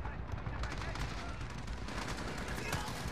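Gunfire in Call of Duty Modern Warfare crackles as dense, rapid bursts, fairly faint and continuous throughout.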